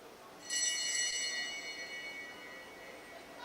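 At a track cycling race at the Oceania championships in Brisbane, a bell rings for the final lap, a bright, ringing tone that starts suddenly and decays slowly against the faint hum of the velodrome.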